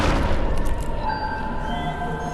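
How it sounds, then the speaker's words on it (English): A bomb explosion in the game Animal Company, a loud low boom that rolls out and lingers as a rumbling tail, heard close and without any talk. "What was that bomb?"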